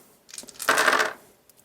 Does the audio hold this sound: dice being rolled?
yes